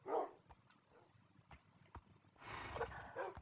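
A dog barks in Minecraft, two short bursts of blocky game barking, one near the start and a longer cluster toward the end, separated by quiet with soft footstep-like clicks.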